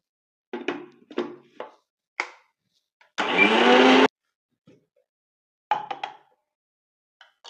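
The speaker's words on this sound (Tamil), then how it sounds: "இப்போ இத நம்ம தண்ணி ஊத்தாம அப்படியே நம்ம அரைச்சு எடுத்துக்கலாம்." Mixer grinder blending aloe vera gel with rice flour and no water, one loud whirring burst of about a second amid scattered knocks and clunks of the jar and lid, with quiet gaps between.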